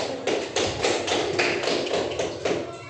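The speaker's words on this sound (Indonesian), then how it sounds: "Beri aplaus." A classroom group applauds during a lesson. The clapping is dense and close, swelling in a few rhythmic waves over nearly three seconds, with no talk over it.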